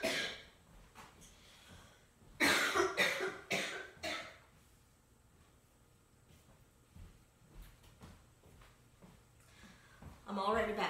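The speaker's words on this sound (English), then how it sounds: "And I feel a coughing fit coming." Coughing fit from an adult during a tarot reading: a cluster of harsh, loud coughs close to the mic, with another burst near the end and quieter breathing and shuffling between.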